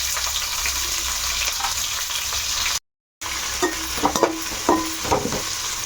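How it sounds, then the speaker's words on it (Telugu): Sliced onions frying in a pot until brown for a chana dal paneer pulao: a steady close sizzle, briefly cut to silence, then continuing with scattered scraping and clinking from stirring. "ఇప్పుడు ఉల్లిపాయలు కూడా వేసేసుకుని బ్రౌన్ కలర్ వచ్చేంత వరకు వేయించుకోవాలి మనం"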